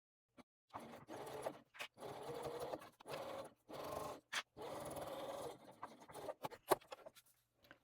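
A sewing machine stitches a crossbody bag lining in quick, repeated bursts of rapid mechanical whirring, each run stopping and starting again, heard close and alone.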